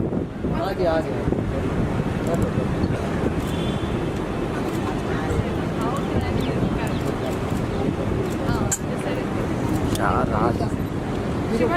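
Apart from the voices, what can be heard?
strong wind blowing outdoors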